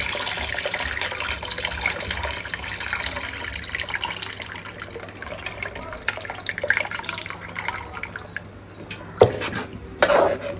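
Dissolved tamarind water being poured into a fish curry and stirred in the pot: continuous liquid sloshing and swirling with light scraping, ending in a couple of sharper clinks of utensil against pan.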